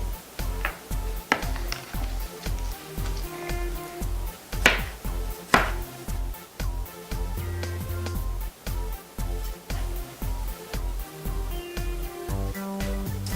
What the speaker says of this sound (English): Chop all these up. I've got parsley, some dill, and green onions, and a regular onion.